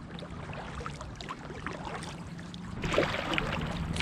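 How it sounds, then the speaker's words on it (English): Paddling a small boat across a park pond, with soft water swishes and gentle dips of the paddle over a steady outdoor hum, growing a little louder and splashier toward the end. "I'm literally just paddling out here."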